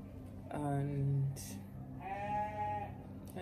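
A goat bleats twice nearby, two distinct wavering cries separated by a short pause, loud against a quiet background.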